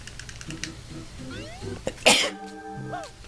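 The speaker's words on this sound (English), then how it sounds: "Bad time to sneeze" A single sharp sneeze bursts out close by amid quiet game sounds and soft beeping tones, loud and brief, with a short vocal lead-in.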